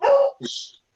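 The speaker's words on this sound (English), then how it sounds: "And that's the dog in the background." A dog barks in the background during a live car show-and-shine stream, giving one short yelping bark followed by a higher whining yip, both fairly close and clear.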